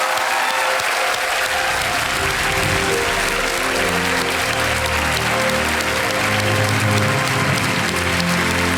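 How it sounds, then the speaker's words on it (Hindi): A studio audience on a television quiz show welcomes a guest on stage with loud, continuous applause while soft background music plays underneath. "पूर्णोता दत्ता बहल का तालियों के साथ स्वागत किया जाए।"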